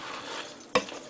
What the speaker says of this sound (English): Heard something sizzling, but it's just the heat of the bottom of the pan.